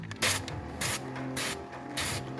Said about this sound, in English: You got your little spray wand